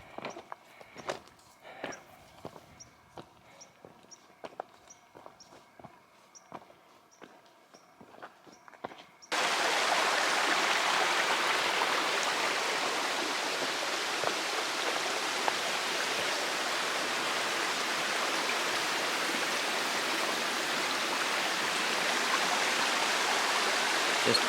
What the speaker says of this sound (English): Just picture perfect little streams out here.